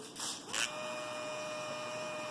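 A repaired Philips Norelco QT4070 beard trimmer motor hums steadily and close, a thin continuous whine after a couple of brief clicks at the start, with no talking.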